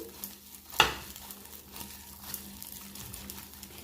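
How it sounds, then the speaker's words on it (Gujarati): Masala-coated khaman dhokla pieces tossed in a pan, giving a soft steady sizzle and stirring rustle with one sharp clatter near the start, no talking. "ઢોકળાને આ રીતના જે ઉલટપુલટ કરવાના છે ચમચાનો ઉપયોગ નથી કરવાનો"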